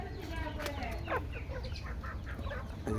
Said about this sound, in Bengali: এগুলো হলো আমাদের দেশি মুরগি